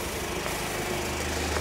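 The engine of a Mercedes La Strada Nova M motorhome runs at a steady idle, a continuous low drone with a faint rhythmic pulse, close and unbroken, with no voices.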